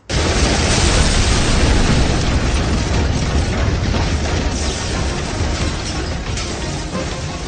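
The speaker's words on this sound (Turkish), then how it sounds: "Bomba!" A bomb explosion: a loud, sustained blast roaring through broadband noise for several seconds, slowly decaying without any talk.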